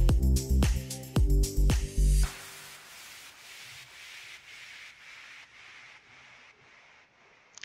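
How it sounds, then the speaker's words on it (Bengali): Cabbage being stirred and turned over while frying in a pan for a fish-head cabbage dish; a few loud clattering scrapes at the start, then a steady close sizzling hiss that carries on alone. "খুব ভালোভাবে এরকম করে এপিট ওপিট করে কষিয়ে রান্না করুন"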